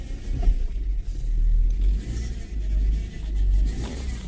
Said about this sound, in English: let me back it up a little bit